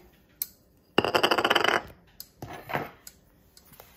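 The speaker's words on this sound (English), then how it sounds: "mix all your ingredients in" Keto chaffle batter with cinnamon is stirred in a bowl, giving a fast rattling clatter of utensil against the dish for about a second, then softer intermittent scrapes and taps, close and fairly quiet.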